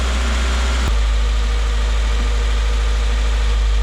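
The FA20 engine of a 2016 Subaru WRX idles steadily with a fitted oil pickup, a loud, close, even low rumble that follows a brief, rougher start.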